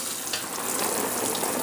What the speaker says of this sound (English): And I just get let water run on these things.